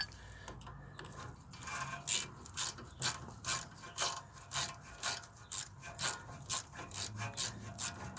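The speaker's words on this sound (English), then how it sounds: "Probably best to use socket, so it's better grip on a rusty bolt." A ratchet socket wrench clicks in rapid repeated bursts while loosening a rusty bolt on an Audi A6 C6 rear brake, close and crisp with a rhythmic back-and-forth pattern.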